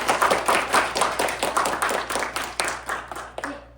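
Applause and hand clapping from an audience at a university mock cabinet meeting, honoring the student mock ministers; a steady patter of many hands that gradually thins and fades out.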